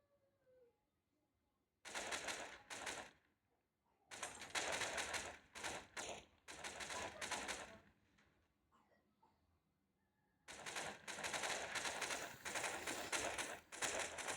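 Gunfire rattles in a video game as a motorcycle is shot at, long loud bursts of rapid automatic shots separated by quiet gaps.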